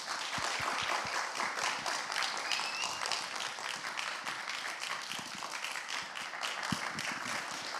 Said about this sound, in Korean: 우리 김민규 목사님 모셔서 함께 말씀 드릴 때 우리 큰 박수로 함께 환영하겠습니다